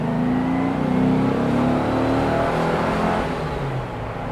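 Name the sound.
Porsche 356 engine accelerating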